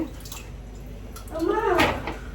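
Cut potatoes are washed in water, with a soft running-water wash that swells into a brief burst of splashing and sloshing near the end.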